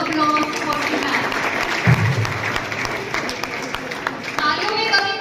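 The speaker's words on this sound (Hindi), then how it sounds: "give a huge round of applause for the man" An audience at an award ceremony applauds in a dense, continuous wash of clapping, and a voice speaks over it.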